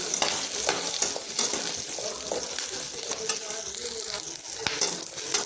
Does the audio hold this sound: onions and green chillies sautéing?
yes